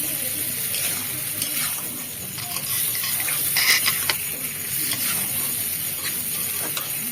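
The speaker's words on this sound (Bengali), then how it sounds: "ভেজে রাখা আলুগুলো এবার দিয়ে দিলাম" Fried potatoes for achari aloor dom land in a hot pan and sizzle in a steady, broad hiss, with a few scraping stirs and light pattering bursts close by.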